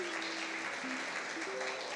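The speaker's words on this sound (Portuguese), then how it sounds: "Uma salva de palmas bem calorosa aí para os nossos visitantes." Steady applause from a church Christmas cantata audience, a continuous wash of clapping with a faint sustained tone running beneath it.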